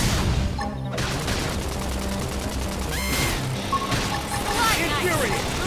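A flame grenade attack in Xenoblade Chronicles X sets off rapid, dense bursts of gunfire and crashing impacts, loud and close, layered over game effects and voices.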